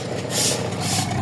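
A Toyota 4AFE engine idles with a misfire, a close, loud, rough running note with an uneven pulsing beat over its short span.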